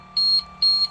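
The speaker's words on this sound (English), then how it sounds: "you can hear that buzzer beeping" A transmission temperature buzzer in a diesel pusher motorhome gives two short, clear, high-pitched beeps in quick succession over a faint low hum.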